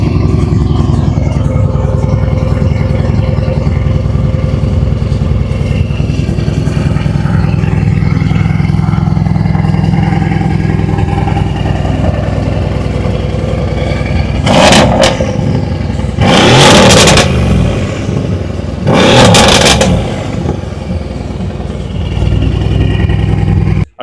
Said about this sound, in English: It's a big twin turbo V8.